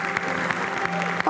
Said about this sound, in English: Clap some more.